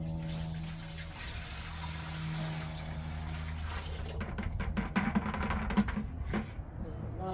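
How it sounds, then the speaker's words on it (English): A liquid dye mixture pours into a hummingbird birdbath mold, a soft continuous trickle and splash under a person's talking voice. "So here goes liquid."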